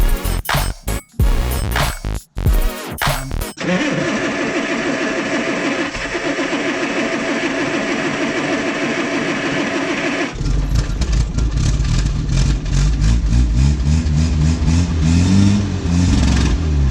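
A Land Rover with a fully restored chassis, left unused for two months, cranks in a few choppy bursts, catches, and settles into a loud, steady idle close by; no voices.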